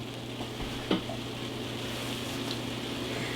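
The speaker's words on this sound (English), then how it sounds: "We're going to add the minced garlic until that gets fragrant." Onion and minced garlic fry in a pan, with a steady low sizzle broken by a single brief stir or clatter near the start and no talking.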